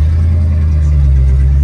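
Ford Maverick engine roaring loudly and close up in a deep, continuous low rumble, held steady through the brief moment with no speech over it.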